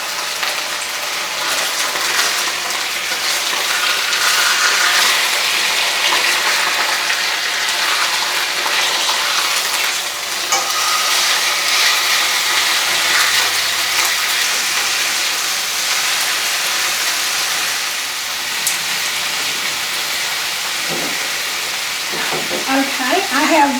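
Rib eye steaks searing in a hot pan, a loud, dense, continuous sizzle and spatter heard up close for the full stretch, with a few faint knocks near the end.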